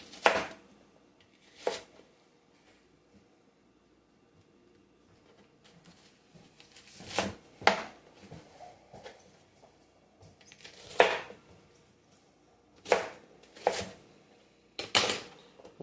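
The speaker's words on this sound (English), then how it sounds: "Alright, so got our onion. And all you're going to do is cut." Knife chopping an onion on a cutting board, heard as scattered sharp cuts in small clusters, some single strokes and some quick doubles, fairly close and clear with quiet gaps between them.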